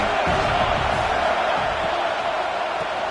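A stadium crowd roars at a UCF versus USC college football game, a dense, loud and sustained wash of noise with no breaks and no distinct individual voices.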